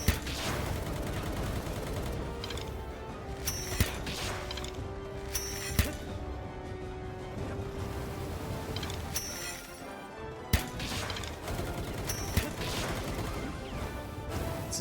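Gunfire aimed at the player in Palworld, scattered sharp shots and impacts popping at moderate distance over a busy, steady game background, with a few louder cracks standing out.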